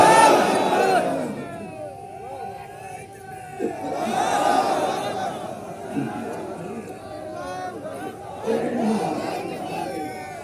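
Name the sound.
crowd responding to takbir call at a religious gathering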